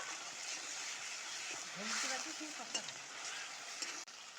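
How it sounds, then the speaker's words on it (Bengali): Garlic paste, with cumin, ginger and cardamom pastes, sizzles in a pan while being stirred, a steady soft frying hiss with a few scraping clicks, under quiet talking. "এগুলো রসুন বাটা এগুলো একটু নাড়াচাড়া করবো"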